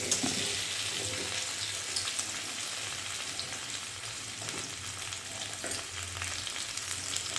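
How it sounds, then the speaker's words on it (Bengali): Dried elephant apple (chalta) pieces are poured into a hot pan and fry with a steady, close sizzle, with occasional stirring scrapes throughout. "এই চালতাগুলো আমি ঢেলে দিচ্ছি।"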